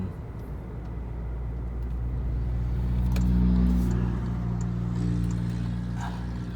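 Toyota Hilux Revo 2.4 automatic pickup from 2022, its engine a steady low rumble from inside the cab as the driver lifts off the accelerator. The drone swells slightly and then settles, with no speech.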